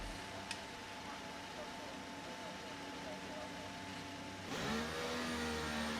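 A Formula 1 car's engine revs on the grid at a race start in F1 23. It holds a steady high whine, then surges louder as the car launches.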